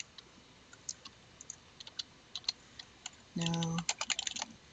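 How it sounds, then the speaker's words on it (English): A computer keyboard is typed on in sparse, quiet clicks, followed by a brief faster burst of keystrokes near the end. A short spoken word is heard alongside. "Let me type it up 1 second."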